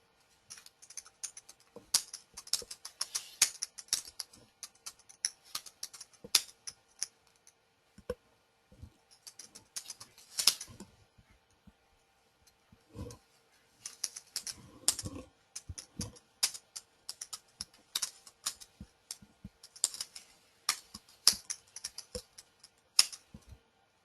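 Names being typed into a text file on a computer keyboard: quick, close clicks of keys in irregular bursts, separated by short pauses and a few heavier single taps.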